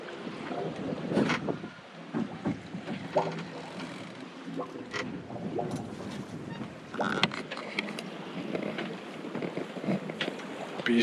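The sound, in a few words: sailboat sailing in a small breeze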